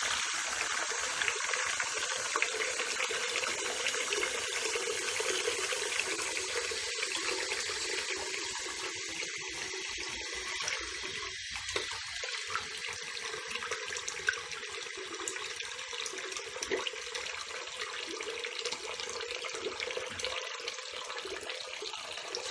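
Hot water runs steadily from a tap into a sink, a continuous close hiss and splash that stays fairly even throughout, briefly shifting as something passes under the stream, with no talking.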